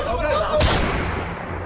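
An AK-47 rifle fired by a pirate boarding a cargo ship lets off one sudden loud blast that cuts through a dense, noisy background and then decays.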